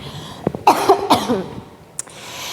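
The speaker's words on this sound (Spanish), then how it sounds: "Perdonad porque estoy fatal con la tos." A person coughs several times in a quick, harsh burst, followed by a short throat clearing in an otherwise quiet room.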